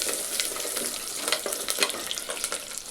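Small onions and garlic cloves fry in hot oil, a close, busy crackling sizzle with quick sputtering pops throughout, no talk.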